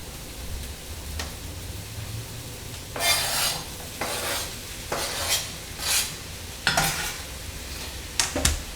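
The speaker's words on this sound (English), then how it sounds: "I gotta put the peas in there." Peas stirred in a sizzling pan, with a soft frying hiss underneath and several scraping strokes of a utensil against the pan in irregular bursts, close up.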